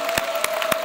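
Short burst of audience applause on a Thai children's audition show, a few distinct clap transients over a steady crowd wash, loud and close, with no talk.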